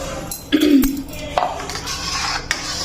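Spinach masala is stirred in a cooking pan, with a spoon scraping and clinking against the metal in a few distinct strokes over a low background hum.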